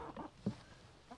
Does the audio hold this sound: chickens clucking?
yes